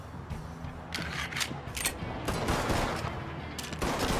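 Gunfire in Mafia 3, a string of loud, close shots fired in uneven bursts over several seconds against a rumbling background.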